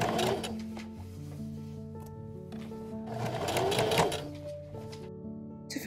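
A sewing machine runs steadily, setting sleeves into the armholes of a Victorian bodice, its close mechanical whir rising and falling over a few seconds with no talking.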